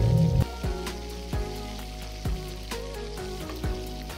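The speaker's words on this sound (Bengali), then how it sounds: "কড়াইতে তেল দিয়ে তার মধ্যে প্রথমে গাজর এবং বিনসগুলোকে ভেজে নেব" Carrots and beans fry in hot oil in a wok for egg fried rice, a steady close sizzle broken by several soft thumps of stirring, with background music running underneath.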